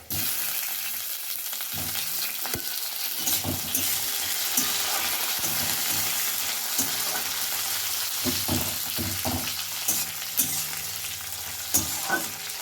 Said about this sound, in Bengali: পেঁয়াজটা ভাজা ভাজা হয়ে গেছে এবারে টমেটোটা দিয়ে দেব